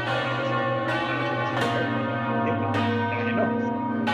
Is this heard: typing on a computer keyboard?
no